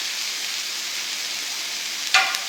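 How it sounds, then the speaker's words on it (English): Onions and mushrooms frying in butter in a pan, a steady bright sizzle running throughout, with a brief louder hiss or stir near the end. "Starts to sizzle up and sound wonderful."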